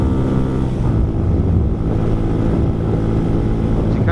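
A 2020 Honda Hawk 250 motorcycle at wide open throttle in fourth gear into a strong headwind, with a loud, steady engine drone and heavy wind rush throughout.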